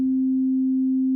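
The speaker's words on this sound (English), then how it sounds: "here's a sine wave." A pure, steady synthesizer sine wave tone holds at one pitch for about a second, clean and alone with no other sound.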